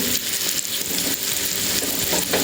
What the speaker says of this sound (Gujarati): બટર અને તેલ સાથે લસણ અને મરચાં આપણા સરસ ફ્રાય થાય